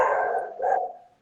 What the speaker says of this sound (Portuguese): Meu cachorro está no quintal aqui.